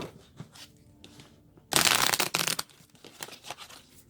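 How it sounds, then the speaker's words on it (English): Several tarot card decks are shuffled up close: light riffling and soft card slaps in short bursts, with a loud dense riffle in the middle followed by quicker, fainter flutters of cards. "So now I'll do a little shuffling of each of these decks in front of you guys"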